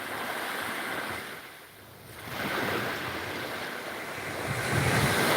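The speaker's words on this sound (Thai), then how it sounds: "ตอนนี้ก็อยู่ที่ชายทะเลนะครับ ที่แถวอำเภอปากพนังนะครับ" Ocean surf washing in steadily on the seashore at Pak Phanang beach, Thailand, a broad continuous rush that swells and eases, with wind buffeting the microphone and no talking.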